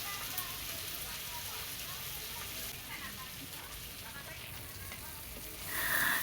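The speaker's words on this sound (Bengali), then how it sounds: "ভালো করে মশলা কষায় নিচ্ছি" Spice paste with tomato frying in a pan, a steady faint crackling sizzle throughout, close and quiet, with no voices.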